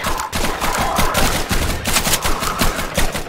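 Rapid bursts of automatic gunfire from the video game Atlas Uprising, dense and continuous with overlapping shots and no talk.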